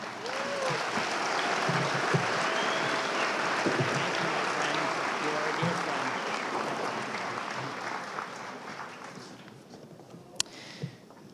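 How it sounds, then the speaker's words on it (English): Sustained applause from a large commencement ceremony audience honoring Senator Mike Fasano, a dense steady wash of clapping across the hall that gradually tapers toward the end, with a couple of sharp isolated claps near the close. "Please give a big round of applause to Senator Mike Fasano."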